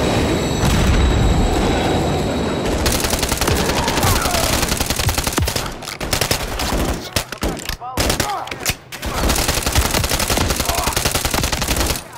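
Artillery fire for effect thunders through a Call of Duty: Modern Warfare III campaign battle, a loud, dense wall of booms and rapid gunfire that keeps going, with brief lulls and a short silent break.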